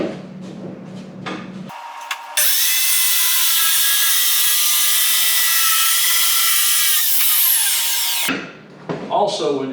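A power saw rips through a sheet of plywood in one long, loud, steady cut lasting several seconds, with a high whine that dies away at the end; shorter bursts of tool noise come before and after.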